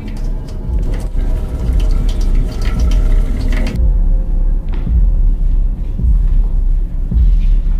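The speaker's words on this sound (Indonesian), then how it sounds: "Danny mendengar suara air keran yang tiba-tiba terbuka" Water rushes from a suddenly opened tap in a house in a film scene, a steady loud gush with a low rumble that changes character midway and keeps flowing.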